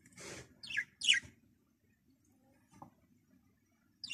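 Pet budgerigar parrots give a few close, bright chirps in quick succession, then a long quiet stretch with one faint call and another chirp at the end.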